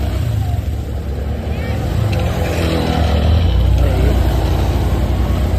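Road traffic heard from a motorcycle taxi: a steady, close engine rumble and passing vehicles revving, loud and continuous throughout, with faint voices in the background.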